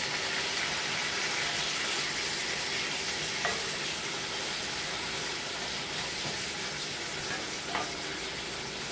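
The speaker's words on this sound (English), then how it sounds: "You're going to cook the onions 5 to 7 minutes" Thawed sliced onions fry with a steady, close sizzle in a pan as they cook for pork chops, with a couple of brief scraping stirs near the middle and end.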